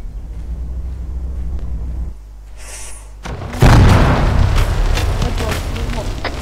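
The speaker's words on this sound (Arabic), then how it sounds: "صار انفجار." In the video game Arma 3, a deep low rumble hums, drops away briefly, then a loud booming explosion bursts in and rolls on with crackling debris.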